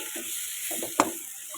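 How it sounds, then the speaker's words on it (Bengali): Onions and tomatoes fry with chili powder in a pan, giving a soft steady sizzle with scattered scraping stirs and one sharp clink partway through, close and unaccompanied by speech. "সুন্দর করে ভাজতে হবে এটা কালার চলে আসবে"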